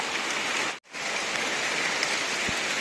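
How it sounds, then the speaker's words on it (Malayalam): Steady rain falls in a forest home to leopards and elephants, a dense, even hiss that cuts out for a split second before resuming; no voices. "മഴ പെയ്തുകൊണ്ടിരിക്കുകയാണ്"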